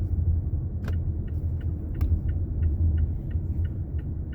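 A 2020 Mazda CX-5 Signature AWD with a 2.5-liter four-cylinder turbo rolls slowly down a street, a steady low engine and road rumble with faint ticking clicks over it, heard from inside the cabin.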